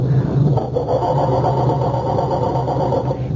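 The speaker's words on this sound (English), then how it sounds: "It sounds like our culprits are having trouble starting Dennis's car" A car engine cranks and sputters without catching, a rough, uneven churning heard close by, in a 1975 radio drama.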